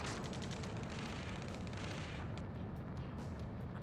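A dense, continuous roar of gunfire and explosions in a video game firefight, heavy and rumbling, with overlapping blasts and no clear individual shots standing out.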